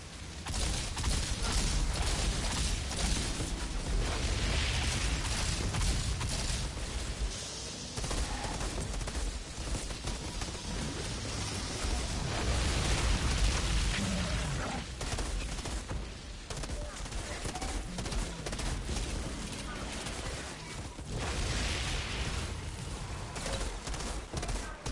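Dense, continuous gunfire from the video game Outriders, rapid bursts and single shots layered over each other, with a voice talking intermittently underneath.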